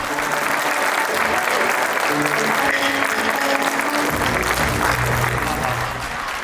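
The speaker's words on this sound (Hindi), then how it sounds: "भरपूर तालियां वकार खान के लिए" Audience at an Urdu mushaira in Sargodha applauds poet Dr. Waqar Khan with a dense, sustained burst of clapping that holds steady for several seconds, with faint voices mixed in before it eases slightly at the end.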